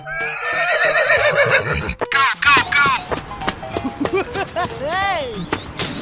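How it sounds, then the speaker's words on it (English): A horse gives a loud, shrill whinny near the start, followed by clatter and playful cartoonish voices and sound effects. Another high, wavering neigh-like call rises later under the busy mix. "Horse."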